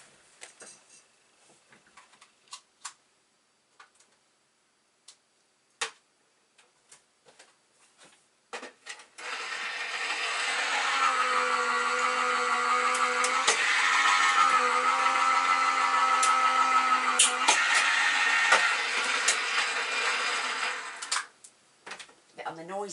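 A paper die-cutting machine feeding sprinkle shapes through its rollers, preceded by scattered clicks and handling taps, then a steady mid-pitched mechanical grinding hum for about ten seconds before stopping, with a few more clicks after.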